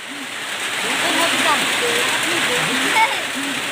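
Steady rain pours down as a broad hiss during an outdoor football match between young and older players, with voices talking and calling over the downpour throughout.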